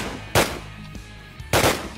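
Two loud, sharp bursts of gunfire from a war video game, spaced about a second apart, each cracking out over a low background hum.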